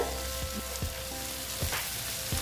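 Dried lote shutki (Bombay duck) fries in a pan with a continuous close hiss and crackle, broken by faint regular ticks roughly every half second.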